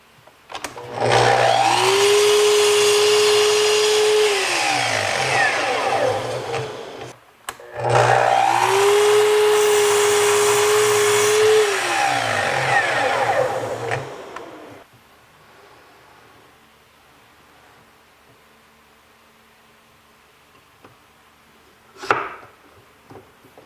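A power saw squares off the ends of bench boards in two loud cuts, each whining up to speed, slicing for several seconds and spinning down, followed by quiet with a brief knock near the end.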